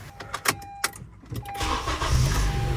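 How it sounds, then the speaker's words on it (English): An engine cranks and catches during a motorcycle jump-start, settling into a steady idle that grows louder, after a few short clicks and clatters. "go and start the car now"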